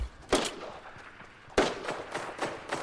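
Gunfire in the video game Fortnite, two sharp shots about a second apart followed by fainter rapid cracks, fairly distant, with little talk over it.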